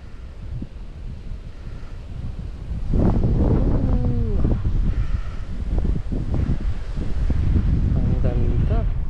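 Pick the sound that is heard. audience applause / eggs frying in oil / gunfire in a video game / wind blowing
wind blowing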